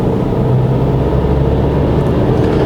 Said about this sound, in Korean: 차를 좀 움직여 보겠습니다